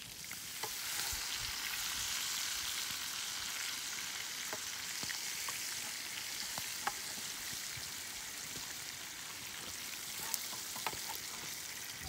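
Brook trout sizzle steadily in a frying pan over a dense, even hiss, with a few sharp scrapes and taps as the fillets are flipped.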